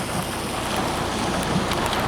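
Heavy downpour during a thunderstorm in the Podhale region, a dense, steady roar of rain pounding surfaces close by without pause.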